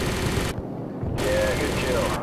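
Rapid gunfire in Call of Duty 4: Modern Warfare, loud dense automatic bursts broken by a short half-second gap, then more firing and clatter, with battle noise filling the mix.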